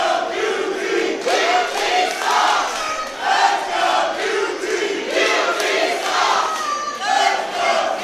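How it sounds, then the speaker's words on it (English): A split wrestling-show crowd at Bash at the Brew chants and roars in rhythmic, swelling waves, loud and full throughout with no talk on top. "you can hear that crowd is split"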